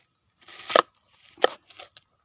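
A few crisp knife chops through an onion on a cutting board, spaced unevenly, close and fairly quiet with silence between strokes.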